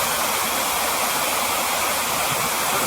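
A forest waterfall swollen by days of rain roars in a dense, steady rush of water, loud and unbroken throughout with no voices.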